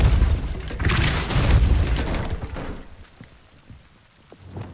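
The Depulso spell goes off in Hogwarts Legacy as a heavy booming magical blast with a rumbling, crackling tail. It fades after about three seconds into quieter scattered ambient ticks.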